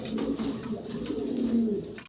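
King pigeons, a large pair, coo steadily in low, throaty rolling tones, close by and fairly loud, continuing without pause.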